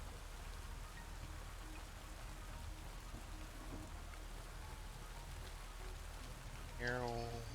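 Continuous rainfall in the video game Satisfactory fills the background as an even wash of patter, with a short tonal sound rising briefly near the end.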